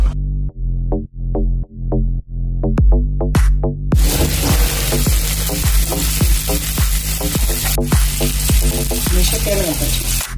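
Prawns coated in turmeric, chilli and ginger-garlic paste sizzle loudly in hot oil, with a string of rhythmic stirring knocks at first, then a dense, continuous close frying hiss.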